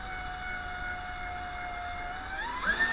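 A drill drives a screw without a pilot hole while a swing bar door lock is fitted, its motor holding a steady, tonal whine that shifts and bends in pitch near the end as the load changes.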